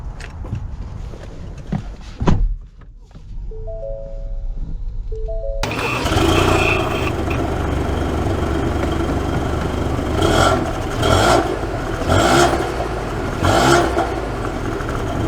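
A 2022 Ford Escape SEL engine cranks and catches with a sudden burst, then settles into a steady running drone that swells in a few revs as it pulls away, loud and close, after a quiet cabin with a soft chime.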